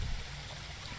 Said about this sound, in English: we're going to hit another little waterfall here